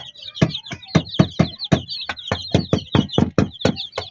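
Chickens cluck and peck near the microphone, a busy run of short sharp knocks and clucking calls from a flock with grown chicks, repeating irregularly about three times a second.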